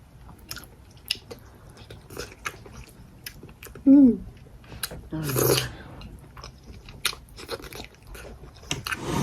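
Someone eats crunchy onions close up, with sparse crisp bites and chewing crunches spread through the clip, a couple of louder bursts among them.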